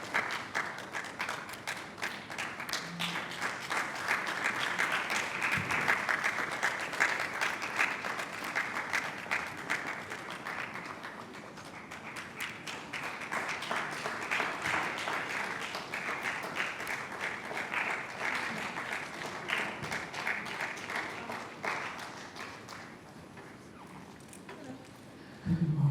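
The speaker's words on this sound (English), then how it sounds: "Another round of applause." Conference audience at a gender procurement policy event in Nigeria giving prolonged applause, a broad sustained wash of clapping that swells and dips in waves, with scattered nearer claps and a brief burst at the very end.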